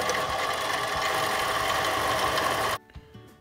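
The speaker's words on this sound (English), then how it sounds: "Now I'm just gonna turn this part down to 14 millimeters at 16 millimeter depth." A Harbor Freight mini lathe, item 93212, turns a metal bushing down to diameter with a steady, loud mechanical whir and hum that cuts off abruptly near the end, leaving a few faint clunks.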